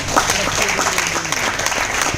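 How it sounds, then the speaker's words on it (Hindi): Audience clapping for Dinesh Gadhvi at an event session, a dense, steady burst of applause from a crowd filling the whole stretch at even loudness. "तो ऐसे दिनेश सर के लिए जोरदार ताली चाहूंगी"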